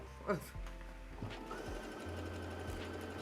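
Sewing machine stitching fabric for a summer wrap with sleeves, a steady mechanical hum running under talk that is close and fairly quiet, with a few thunks along the way.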